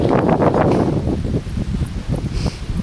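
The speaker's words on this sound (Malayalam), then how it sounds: "നല്ല തണുത്ത കാറ്റ് വീശുന്നത്" Cold wind buffets the microphone in heavy low rumbling gusts in a forest, loud and close, with faint rustling behind.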